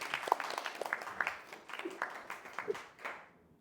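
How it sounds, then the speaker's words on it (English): A small podcast audience gives a brief round of applause for the show's guests, scattered claps that are fairly faint and taper off within a few seconds. "Can we get one more round of applause for our guests for coming on the show?"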